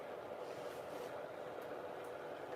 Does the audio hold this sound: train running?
yes